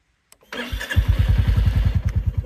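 A Royal Enfield Bullet 350 motorcycle cranks and fires up, settling into a loud, close, steady thumping idle with an evenly spaced single-cylinder beat.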